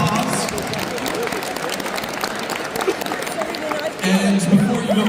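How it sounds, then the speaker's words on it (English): Conference audience applause for partners after a keynote session, steady clapping mixed with crowd chatter and a voice speaking over it. "please give your partner a round of applause"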